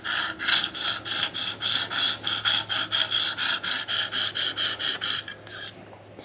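About fifteen light, evenly spaced sharpening strokes of a KME sharpener's stone across a knife edge rasp in a steady rhythm, close and clear, then stop near the end.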